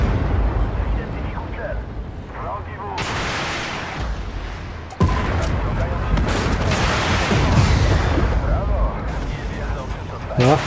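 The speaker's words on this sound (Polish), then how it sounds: "Dostajemy delikatnie od HIFA z rakietek. To boli" Heavy explosive impacts and blasts strike repeatedly against a rumbling battle backdrop, with one sharp hit halfway through, as a Leopard 2A7 tank takes rocket fire in a video game.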